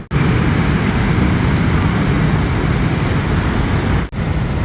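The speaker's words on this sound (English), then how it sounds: "Plenty of traffic, 9 in the morning here on Sathorn Boulevard." Dense, steady morning traffic on Sathorn Boulevard in Bangkok: continuous broadband roar of cars and buses close by, with one brief dip near the end and no talk.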